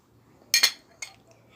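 A wire whisk knocks against a bowl while stirring flour, salt and pepper flakes into an egg-and-milk batter: a quick pair of bright clinks, then one more tap, alone in a quiet kitchen.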